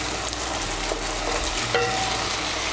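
Fried pointed gourd sizzles in a mustard, poppy seed, yogurt and coconut masala as it is stirred, a steady close crackle with occasional scrapes and no talking.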